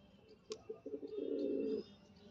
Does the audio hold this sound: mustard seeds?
no